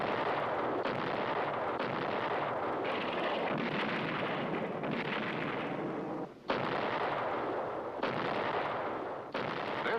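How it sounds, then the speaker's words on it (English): Heavy naval gunfire from a ship's big guns booms continuously in a dense, roaring barrage, with a few sharp blasts standing out against the sustained rumble. "This is naval gunfire support, a mobile source of big gun reinforcement for friendly troops ashore"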